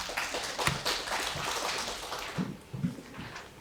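Dense, continuous applause from an audience at a hospital quality-improvement conference greets a nutrition-team presenter, steady and moderately distant, tapering slightly near the end with no speech.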